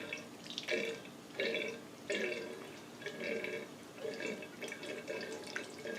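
Water poured lightly from a can over potting mix in a tray of ranunculus and anemone corms, a close run of soft trickling and splashing pulses repeating roughly every second.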